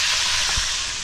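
Steady bright sizzling of fish pieces frying in hot oil, a continuous hiss with no voices.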